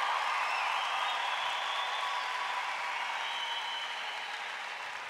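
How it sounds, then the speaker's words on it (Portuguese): Audience at a Catholic sermon applauding, a dense, steady wash of many hands clapping that fades slightly toward the end, with no speech over it. "Pode aplaudir, viva a igreja católica"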